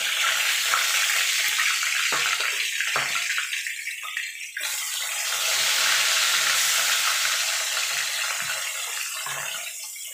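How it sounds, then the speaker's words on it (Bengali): Tilapia fish frying in hot oil, a loud broad hissing roar that dips briefly midway and then continues steadily up close. "এইভাবে বাকি যে একটা মাছ আছে সেটাও আমি ভেজে নেবো।"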